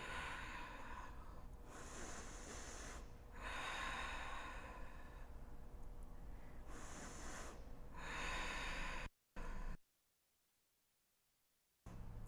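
Slow, deep breaths during a yoga pose, long airy inhales and exhales repeating in a steady rhythm, close and fairly loud, with a short break and a quieter stretch near the end.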